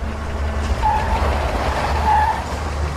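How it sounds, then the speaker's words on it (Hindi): A car brakes and its tires squeal in a drawn-out skid to a stop, heard over steady engine and road noise. "गाड़ी रोको।"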